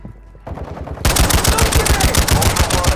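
Gunfire in Call of Duty: Modern Warfare II DMZ, where an enemy carries a shotgun: a quiet start gives way to a dense burst of rapid, loud shots in quick succession, some close and sharp.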